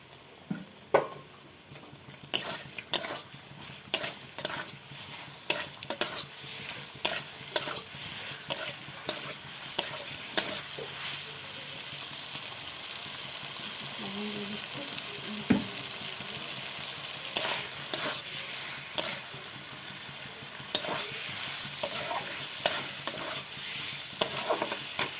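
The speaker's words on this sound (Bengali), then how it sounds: "মশলাটা কষা হয়ে গেছে, ভেজে রাখা আলুটা আমি দিয়ে দিলাম" Spiced fried potatoes sizzle steadily in a pan of cooked-down masala in a Bengali home kitchen, with repeated scraping and stirring knocks of a spoon throughout and no talking.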